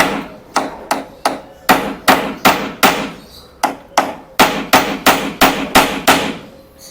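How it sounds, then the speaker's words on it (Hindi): Sharp hammer blows on a bent nail in a wooden table, about fifteen strong, evenly spaced hits with a brief pause midway, close and loud with no talking. "थोड़ी सी कील मुझे लगती है टेढ़ी होती हुई, तो मैंने इसको अभी से सीधा करने की कोशिश की।"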